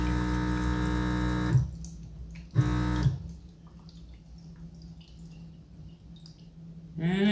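Baby Brezza formula machine dispensing water, a brief mechanical hum and then a thin trickle and faint drips into a bottle, near and fairly quiet, with no voices.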